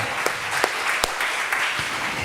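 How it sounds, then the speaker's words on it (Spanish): Congregation applause during a church service, dense continuous clapping from many people, loud and even throughout the short stretch with a few sharper individual claps standing out. "Denle un aplauso fuerte al Señor"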